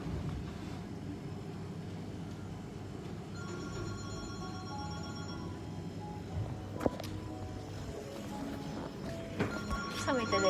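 An office telephone rings intermittently in a quiet room, faint tonal trills sounding over a low background hum, with soft speech in the clip.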